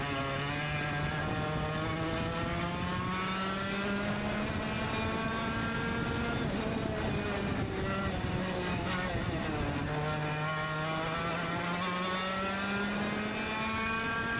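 A retro racing kart engine at Hooton Park screams steadily on track, its high buzzing pitch rising and falling through gear and throttle changes, loud and close throughout with no pauses.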